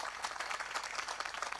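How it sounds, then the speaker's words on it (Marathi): An audience at a kirtan gathering claps for child warkaris, a brief burst of fairly faint, dense applause with quick overlapping claps. "या बाल वारकऱ्यांसाठी एकदा जोरदार टाळी वाजवा"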